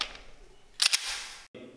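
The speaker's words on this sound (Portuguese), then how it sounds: "Olha lá, primeiro disparo" A single sharp 9mm pistol shot fired into a test target, loud and close, a brief cracking burst rising out of steady background noise, followed by a short drop to silence and then a low rumble.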